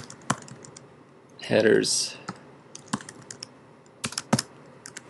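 Computer keyboard typing in short bursts of clicking keys, with a brief spoken word in the middle and scattered single keystrokes before and after.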